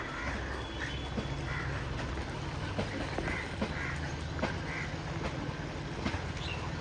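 Faint scattered duck quacks over a constant outdoor hiss, irregular and somewhat distant.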